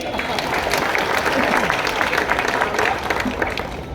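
Continuous audience clapping and crowd noise at a political speech in Dharavi, Mumbai, a dense sustained patter with voices calling out through it.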